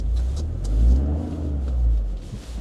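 Toyota GR Corolla engine on snow, revving in two rising-and-falling swells, loud and close with a deep rumbling exhaust tone.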